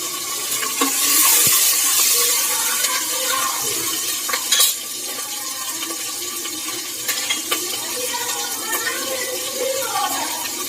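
Green chillies and spices frying in a hot pan for mutton biryani, a close hissing sizzle that swells at the start and then settles, with scattered stirring clicks.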